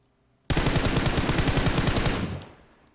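Automatic weapon fire in the mobile battle royale game PUBG Mobile comes as one loud, rapid burst of shots lasting about two seconds, then tails off into echo.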